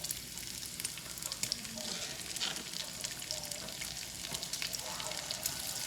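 Onions fry with bacon in a pan, giving a dense, even sizzle and crackle that stays steady and fairly quiet, with light stirring noises and no talking.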